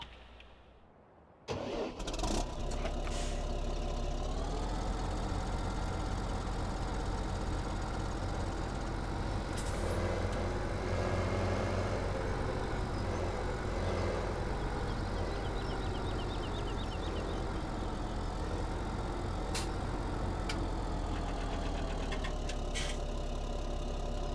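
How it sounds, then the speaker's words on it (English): A tractor engine in Farming Simulator 17 starts up and settles into a steady, loud mid-pitched running drone that holds for about twenty seconds with slight shifts in revs. "Let's grab our tractor and seeder, see if this works."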